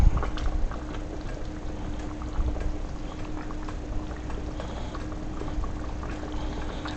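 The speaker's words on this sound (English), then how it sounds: "So yeah, you see it bubble" Jamaican-style stew pork boiling in a pot, a dense, continuous bubbling and popping that stays close and fairly loud throughout, with no talking.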